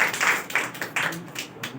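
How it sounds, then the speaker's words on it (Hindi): A church congregation claps for Jesus, a brief burst of rhythmic hand claps from a group in a room, close and fairly loud, with a voice speaking faintly underneath. "आइए हम यीशु के लिए ताली मारेंगे।"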